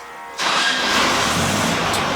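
A Volkswagen engine fitted with a new header fires up at once and settles into a loud, steady idle close by.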